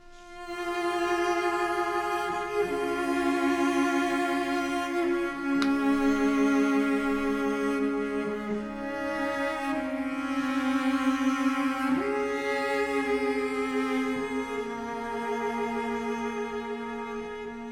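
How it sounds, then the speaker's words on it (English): Two cellos play a slow, sustained melodic line together in an instrumental section of a cover, the layered bowed tones blending continuously for the whole passage with no voices. "I've got two cellos. The second cello only plays in this first instrumental section with the first cello."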